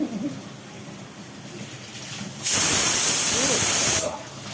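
A pressure cooker vents steam in a home kitchen, a loud steady hiss that starts abruptly partway through, holds for about a second and a half, then cuts off. Faint voices and kitchen noise are heard before and after.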